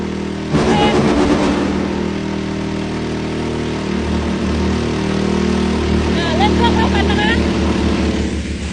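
A 4-inch water pump engine revs hard outdoors, a loud close mechanical drone that swells and settles in pitch, while people shout and talk over it.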